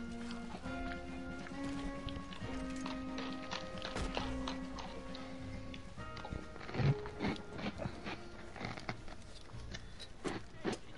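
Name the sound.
horse hooves in a video game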